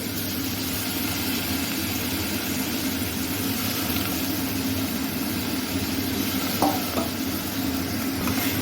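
Dalia and red lentils stirred into a pan with beans and carrots, a continuous close sizzle with low scraping of the spoon and a couple of sharp clinks near the end.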